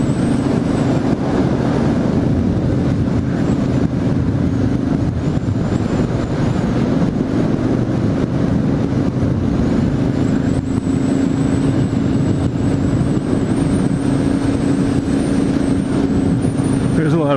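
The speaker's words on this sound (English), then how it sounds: "There's a lot of bikes on this road." Harley-Davidson motorcycles riding along a road make a loud, steady engine drone that holds without a break, with a low murmur of voices underneath.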